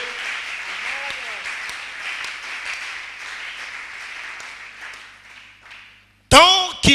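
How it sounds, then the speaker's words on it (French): A church congregation applauds loudly and steadily. The clapping thins out toward the end, then breaks off into a loud burst of amplified voice. "Est-ce qu'on peut acclamer très fort le Seigneur?"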